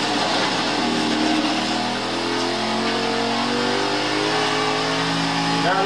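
Subaru rally car engine in Forza Horizon 3, a steady revving drone with harmonics rising and falling; distinct backfire pops are not clearly separable within the continuous engine roar.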